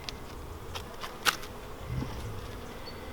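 Honey bees from a weak hive with only two or three frames of bees buzz faintly and steadily during a spring inspection, with a few soft knocks and shuffles close by.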